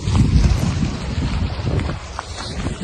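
Cold wind gusting on an icy, snowy spring day in Belgium, a loud, steady low roar of wind buffeting the microphone throughout, with no voices.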